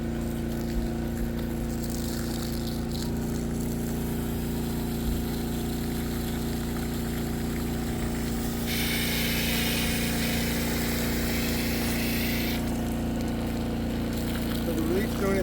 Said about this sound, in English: That's a strong pump right there.